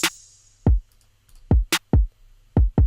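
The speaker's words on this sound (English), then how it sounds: "Next thing we added was an open hat." A sizzling open hi-hat rings out and fades at the start, followed by a trap beat loop of heavy electronic kicks and crisp snare hits.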